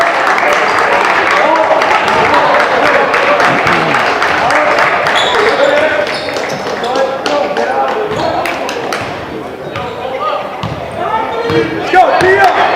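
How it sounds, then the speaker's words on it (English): Crowd at a high school boys' basketball game, a continuous loud roar of voices with scattered claps, basketball bounces and sneaker thumps throughout. "Really good crowd here tonight"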